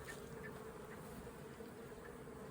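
Honey bees buzzing steadily at a hive after days of pollen feeding, a dense continuous drone with a faint tonal hum, close and unbroken throughout.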